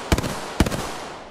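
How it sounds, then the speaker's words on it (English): Gunfire in the video game Apex Legends: two quick bursts of rapid shots about half a second apart, loud and close, each trailing off into a short echo. "Opening fire on the enemy."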